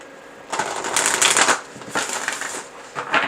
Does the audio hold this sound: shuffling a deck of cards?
yes